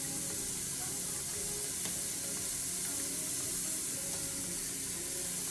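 Red onions, mushrooms and garlic fry in a pan with a steady, close hissing sizzle and faint crackles, continuous throughout and with no voices.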